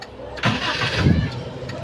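A Toyota Kijang car engine is started with a short cranking burst, then catches and settles into a steady mid-pitched idle, heard up close with a faint voice in the background.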